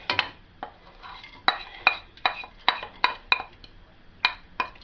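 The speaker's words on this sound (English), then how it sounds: "So the onion and the garlic go in." Onion and garlic go into a pan for homemade leek and potato soup, with a utensil scraping and clinking against the cookware in about a dozen sharp, close, irregular taps and no audible sizzle.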